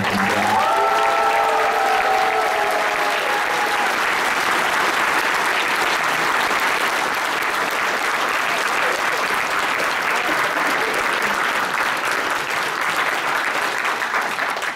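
Sustained audience applause fills a hall at a gaming convention Q&A, a dense, loud wash of clapping from a large crowd that carries on for the whole stretch, with a brief tonal whistle-like sound near the start.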